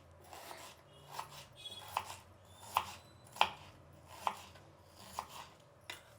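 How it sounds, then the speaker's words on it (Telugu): A knife chopping a small red onion finely for tomato dal, with about eight evenly spaced crisp strikes against the board, close and clear, with no talking. "సన్నగా మన పప్పుకి సన్నగా కట్ చేసుకుందాం ఇట్లా"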